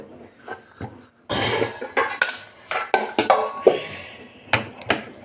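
Khajur dough being mixed by hand in a bowl, a run of soft irregular thumps, squelches and scrapes close by after a quiet start, with occasional sharp clacks against the bowl and no talking.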